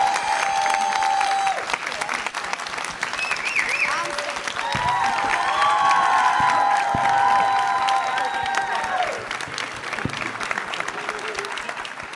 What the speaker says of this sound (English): if we could give them another round of applause